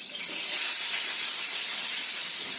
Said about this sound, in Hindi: मेरे ख्याल से अब तेल गर्म हो चुका है तो इसमें मैं इस प्याज को डालूंगी